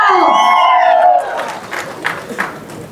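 A crowd cheers and claps for actor Shivanna at a film trailer launch, rising after a loud amplified voice fades, with scattered whoops and shouts over a busy hall murmur.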